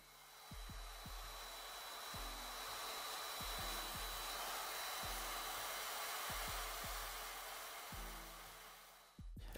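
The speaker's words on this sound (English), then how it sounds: "The hairdryer is very loud." A hair dryer blows steadily while buttons are worked on a custom Game Boy Color housing, a constant airy whoosh with intermittent low knocks and clicks beneath it, cutting off at the very end.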